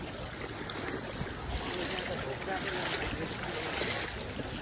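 A swollen river rushing past, a constant broad roar of flowing water, steady and fairly close.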